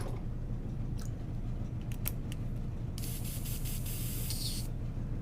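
An airbrush sprays paint in one sustained hiss lasting about a second and a half, close and clear after a quiet stretch with a few faint clicks.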